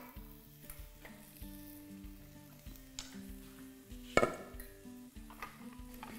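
A dab of butter sizzles in an omelet pan, a soft, continuous crackle heard close, with a few light metallic clinks of a utensil against the pan partway through.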